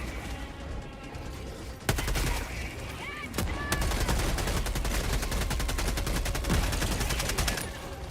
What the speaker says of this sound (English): How are you not dead after that barrage?